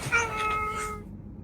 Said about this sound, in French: C'est un chat que j'ai croisé en Corse.